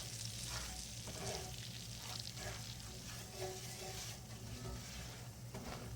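Flour cooking in a pan of grease for gravy sizzles steadily and close up, a continuous bright frying hiss with faint stirring scrapes and no talking.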